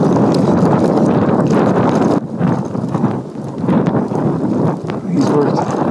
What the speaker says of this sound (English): The wind sure feels like it's increased.